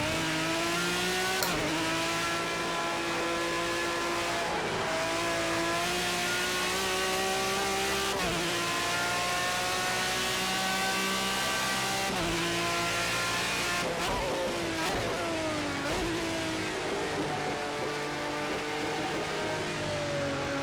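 A BMW V12 LMR race car in the Project Cars 2 racing game on the Sakitto GP circuit, its engine droning loud and steady through gear changes, revving up and down with brief dips between shifts, with no talk.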